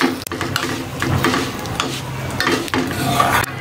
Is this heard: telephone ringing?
no